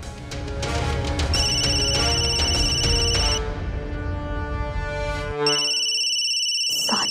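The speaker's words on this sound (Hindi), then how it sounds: "सांची का फोन तो" A phone ringtone chimes in a repeated electronic pattern over background music in a Hindi television drama, then the music drops away and the ringing carries on in a brighter repeating tone.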